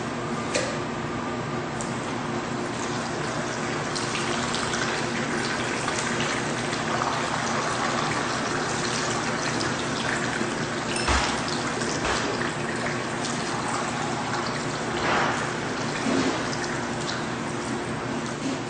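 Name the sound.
bartender pouring several shots at once, multi-pour technique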